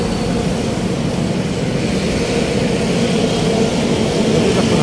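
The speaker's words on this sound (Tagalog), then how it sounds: "Painahon ang takbo ng MRT ngayon, mga kabayan." An MRT metro train runs with a continuous, loud rumbling roar that holds steady throughout, heard from close by with no clear voices.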